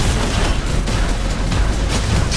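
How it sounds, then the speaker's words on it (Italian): In a Nexuiz one-on-one deathmatch, weapon shots explode against the ground with several booming bursts that stand out from dense, continuous game noise, loud and close throughout. "sparo a terra per fargli il danno."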